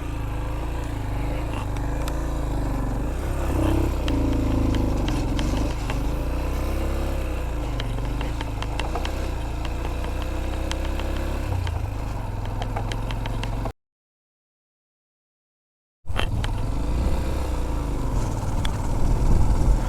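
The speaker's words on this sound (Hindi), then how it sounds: "रेत में बाइक फंस गई है, आहिस्ता आहिस्ता अब निकालनी पड़ेगी" A motorcycle struggling while stuck in deep desert-like sand in the Wakhan valley, its engine humming and revving in a steady mid-pitched drone. The sound cuts out briefly to silence, then the engine picks up again, louder.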